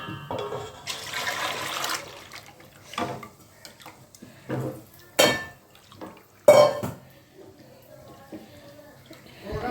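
Flour stirred into a little water is poured into a pan for Pesaha appam, a brief liquid pour mixed with scattered clinks of utensils and pots in a quiet kitchen.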